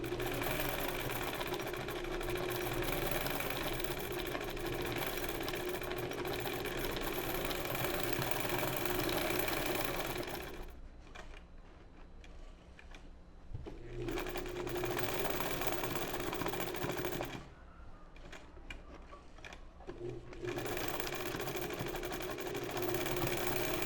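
A sewing machine fitted with a darning foot does free-motion stitching through fabric, with a steady, fast mechanical whir and chatter. The stitching stops briefly twice before resuming.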